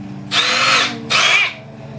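A power drill spinning a mixer beater to mix cookie dough at a campsite whirs loudly in two short bursts, separated by a brief pause.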